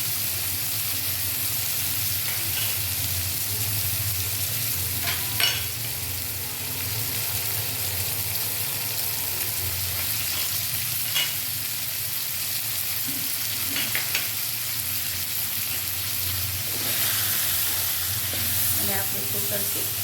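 Drumsticks are stirred into a spiced masala tempering, sizzling with a constant loud hiss, occasional spatula scrapes and scattered crackles throughout.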